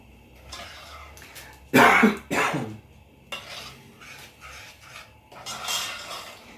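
Sugar melting in a pot for peanut butter fudge is stirred with a utensil, giving soft scraping and clinking strokes in an irregular rhythm, with a couple of louder knocks near the middle.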